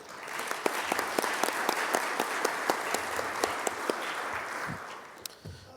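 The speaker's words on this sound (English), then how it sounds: "If everyone can give them a round of applause, I'd really appreciate it." Audience applause for a conference panel on real-world network automation, a steady dense wash of many hands clapping at fairly close range, holding throughout and thinning slightly near the end.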